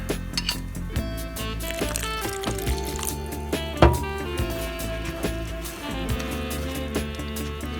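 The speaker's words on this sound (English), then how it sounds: "So now we're gonna add the 1 cup of water," One cup of water is poured into a bowl of fritter batter mix, a soft trickling splash with clinks of a bowl and utensils. Music plays throughout.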